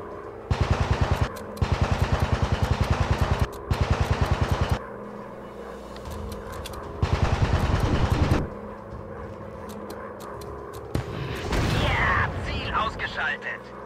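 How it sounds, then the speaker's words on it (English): Bursts of machine-gun fire rake a World War I fighter plane in the Warplanes WW1 Fighters VR game: three loud rapid volleys, then another long burst, over a steady engine drone, ending with a brief scattered rattle. "I'm being shot at somewhere."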